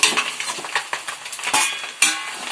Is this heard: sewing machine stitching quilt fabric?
no